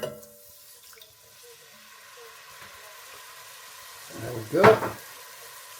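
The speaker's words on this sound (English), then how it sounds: "So now go in with our wine." Wine goes into a hot pan of chicken fricassee with a short sizzling splash near the end, after a quiet stretch of faint kitchen sounds and a brief spoken word.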